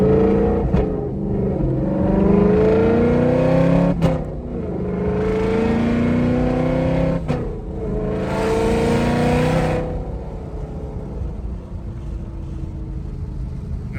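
A 2013 Ford Mustang Boss 302 engine with fuel delivery issues revs hard and loud from inside the cabin, rising and falling through several gear pulls with a steady drone between.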